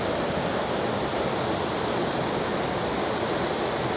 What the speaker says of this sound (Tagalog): yung tubig dyan masyadong mabilis yung current or masyadong malakas